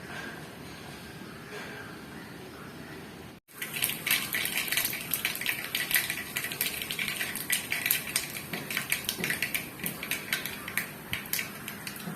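Mustard seeds crackling and popping in hot coconut oil after a brief pause, a dense run of sharp little pops and ticks that keeps going, close and fairly loud.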